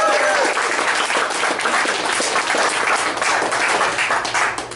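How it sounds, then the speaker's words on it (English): Enthusiastic applause from a sizable audience at a Warhammer 40k tabletop gaming tournament, sustained and full, fading slightly at the very end. "big round of applause for TOs!"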